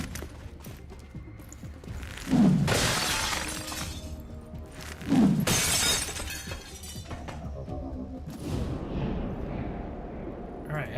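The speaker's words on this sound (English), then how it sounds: "So much broken glass!" In the video game XCOM Chimera Squad, two loud bursts of shattering glass crash a few seconds apart, each with a sharp impact and a scatter of falling shards, amid game effects and a trailing rumble.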